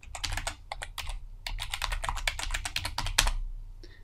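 A group name being typed on a computer keyboard, a close, rapid run of crisp key clicks in quick bursts with brief pauses, ending with a few isolated taps; no talk.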